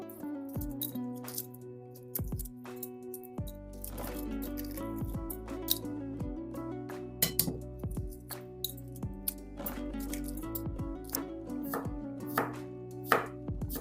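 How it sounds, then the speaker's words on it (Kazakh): A knife chops cucumber into thin strips on a board for a diet lavash roll, a steady run of crisp, close, fairly loud cuts with brief pauses and a few clinks, no voices. "Огурцыларды осылай соломка қылып турап аламыз."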